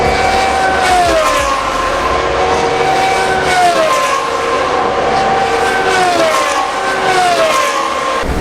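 Formula 2 race cars roar past at Monza, heard from a tunnel beneath the track, a loud continuous engine wail with several rising and falling pitch sweeps as cars pass overhead.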